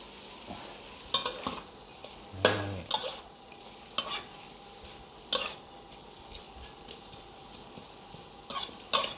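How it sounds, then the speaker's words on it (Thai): Stir-frying with holy basil in a pan at a seaside fishing spot, with kaffir lime leaves added, giving a steady sizzle broken by sharp metallic scrapes and clanks of a spatula against the pan, close by with no talking. "ผัดให้มันเข้ากัน แล้วก็ใส่กะเพราครับ"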